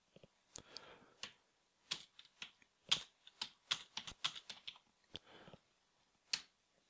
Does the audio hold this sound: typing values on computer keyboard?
yes